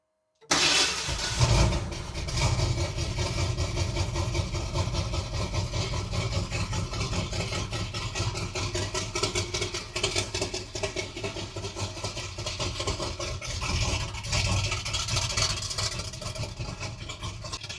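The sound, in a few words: old truck engine starting and idling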